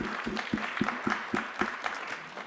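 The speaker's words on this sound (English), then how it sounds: "Let's give a big round of applause for him" Brief, fairly faint applause from an audience welcoming a speaker at a social equity event in New York, a handful of loose claps under a light room murmur.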